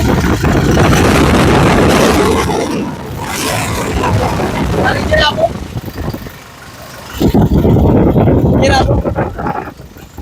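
A 2018 Toyota Innova Crysta 2.4 Z roars loudly as it accelerates, with broad engine and wind rush that dips midway and then surges again.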